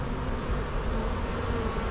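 A dense, loud cloud of honeybees hums steadily up close while they are removed from a bin.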